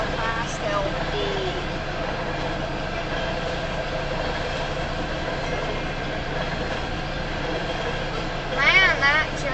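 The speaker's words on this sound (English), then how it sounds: "that train is super loud right there" A Union Pacific tanker train passes south of Elkhart, Iowa on the Spine Line, a steady, loud rumble and rattle that holds throughout, with a brief squeal near the end.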